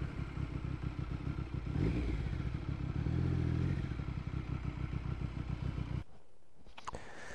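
A Triumph 900 Sprint fitted with a cafe racer kit rumbles and clatters steadily up close as it pulls over, then its engine note drops away abruptly near the end, leaving a quieter idle.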